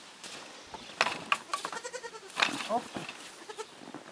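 A month-old goat kid at a village smallholding gives repeated bright, wavering bleats close by, mixed with a voice talking and a brief exclamation.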